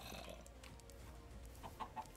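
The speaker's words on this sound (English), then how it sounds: "We'll start with two chickens and we'll move from there." Chickens in Minecraft, the blocky game's farm fowl giving a few soft clucks near the end over a quiet, steady background.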